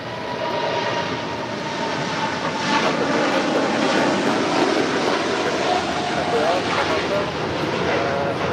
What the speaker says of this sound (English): This is Lufthansa 457 Heavy departing to Frankfurt on the 747-8 Intercontinental.